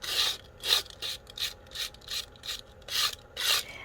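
Sanding an embossed 3D-textured card with 150 grit sandpaper: about nine rhythmic rasping strokes, close and fairly crisp, each a short scratchy sweep with brief gaps, no talking.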